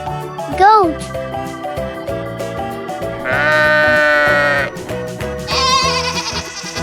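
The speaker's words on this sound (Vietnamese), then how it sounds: "Goat." Two drawn-out goat bleats ring over bouncy children's music, with a voice also heard between them.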